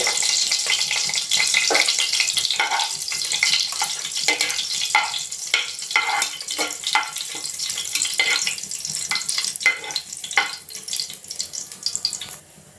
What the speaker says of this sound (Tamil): எண்ணெய் காய்ந்துட்டு ஏலக்காய் லவங்கம் பட்டை சோம்பு